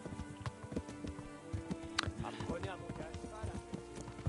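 Horse hooves clip-clop at a steady walking rhythm in the medieval game Kingdom Come Deliverance, moderately close, with game voices and other sounds layered over the hoofbeats.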